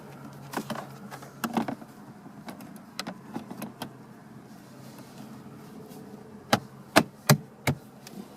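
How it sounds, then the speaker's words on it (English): Plastic side panels on a Ford Mustang console snap into place in sharp, separate clicks and knocks, a few early and a louder cluster near the end, over quiet background. "we just need to snap the side panels back on the console that we took out earlier"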